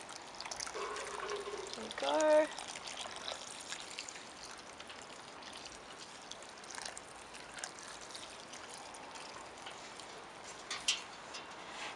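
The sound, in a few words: watering plants with liquid comfrey fertiliser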